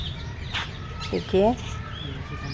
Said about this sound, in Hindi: सिर्फ पक्षियों की आवाज़, और बहुत ही चहचहा रहे हैं सारे पक्षी